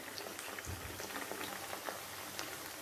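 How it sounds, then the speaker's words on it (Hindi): Chicken pieces for Chicken Manchurian bubble and crackle in hot oil, a soft, continuous frying patter with scattered small pops. "बहुत मज़े के, बहुत सॉफ्ट और बहुत अच्छे ये फ्राई हो रहे हैं"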